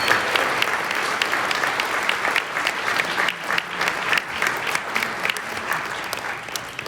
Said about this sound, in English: how about a big round of applause for Diane, Katie, and our event chairs